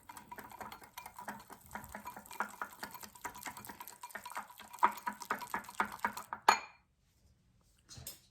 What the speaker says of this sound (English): And now we just have to mix it together.